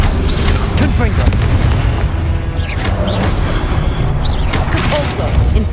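Fiery Confringo spell blasts in Hogwarts Legacy on PS5 boom and crackle loudly amid ongoing combat, with a voice shouting over the repeated explosive bursts.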